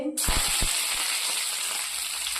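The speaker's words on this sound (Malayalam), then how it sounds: "കടുക് പൊട്ടുമ്പോൾ കറിവേപ്പിലയും" Mustard seeds and curry leaves sizzle and crackle in hot coconut oil, a sharp burst of spitting pops at the start settling into a steady, close hiss.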